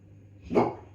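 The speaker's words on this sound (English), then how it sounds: "sorry, that was a dog." A single short dog bark rings out at moderate distance over a quiet background hum.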